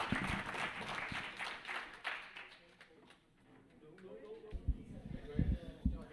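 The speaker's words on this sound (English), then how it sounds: "A round of applause for our farmers" An audience at the Hawaii Bio-Economy Forum 2022 applauds for farmers: a burst of clapping at the start fades down, then a few scattered claps return amid background noise.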